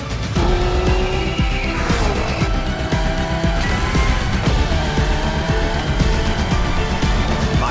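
A Citroen built by Genty Automobil drives in a racing video game, its engine running loud and continuous with tires squealing and skidding through turns.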